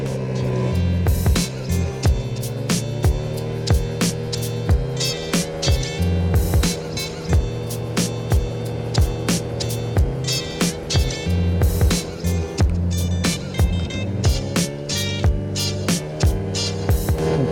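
A four-stroke scooter fitted with an 80cc kit rides through traffic, its engine droning steadily at close range with rising and falling pitch as it accelerates, overlaid by repeated wind buffeting and rumble.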